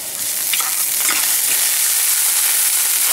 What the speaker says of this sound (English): Just a quick saute so that way we can stop some of the heat from the pan.